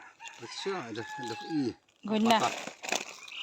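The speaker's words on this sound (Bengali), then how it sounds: "দেখছো কক কক করতেছে" A chicken clucks near a village fish pond, giving a quick run of clucks and then a second short burst close by.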